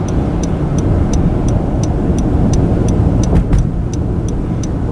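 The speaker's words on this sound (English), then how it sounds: "I think I see some cars coming from there." Traffic rolls along a road in a fire-damaged area, a loud steady rumble of passing cars that swells briefly midway, with faint regular ticking over the top and no talk.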